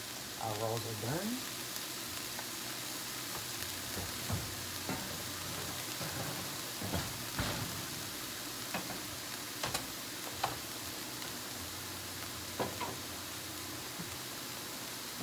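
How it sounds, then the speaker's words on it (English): Cauliflower rice sizzles steadily in melted butter in a pan, a constant crackling hiss with scattered ticks and scrapes as it is stirred. "we're going to let that butter distribute throughout the cauliflower rice. Just going to get slightly brown."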